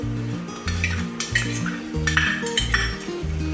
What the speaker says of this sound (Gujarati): એને સરસ રીતે થોડી વાર છાકળી લઈશું.